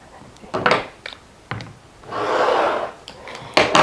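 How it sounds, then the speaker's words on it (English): Fabric selvage edges trimmed along a ruler, a few short scraping cuts and a longer rolling slice, close and fairly loud, with small bumps and shuffles between, no speech. "You're going to trim the selvage edges off"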